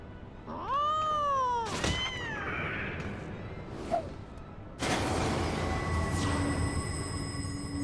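A cat meows close by in two drawn-out, rising-then-falling cries, followed by a thump and a stretch of steady background noise with no talk.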